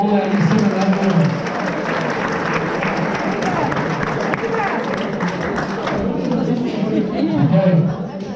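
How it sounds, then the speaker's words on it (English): At a soccer school celebration evening, an audience applauds the year 7 athletes with loud, dense clapping blended with chatter and voices, swelling near the start and the end. "A big round of applause for all our year 7 athletes."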